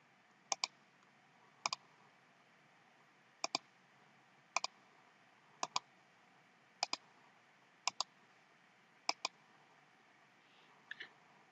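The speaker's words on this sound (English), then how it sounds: "I must click X in the right corner to close all browser windows." Mouse clicks closing Chrome browser windows on a computer: eight quick double clicks spaced about a second apart, crisp and close, over a faint steady hiss with no talk.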